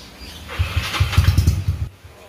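A motorcycle engine cranks and fires into a burbling exhaust after a quiet start, with uneven low pulses for more than a second before it cuts off abruptly.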